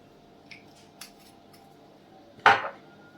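A metal spoon clinks faintly against a dish a few times while mustard and a small spoonful of soy sauce go in for a chicken burger mixture, ending in one louder, sharper clatter.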